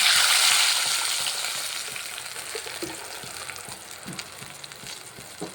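Loud, crackling sizzle as spice paste for Kerala-style sardine curry hits hot oil, bursting at first and then settling into a softer, steady hiss with occasional stirring clicks.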